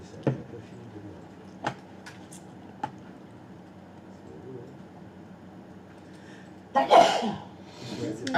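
A single sharp sneeze bursts out near the close of a quiet room, preceded by a few faint clicks and light shuffling, with a softer breathy noise trailing after it.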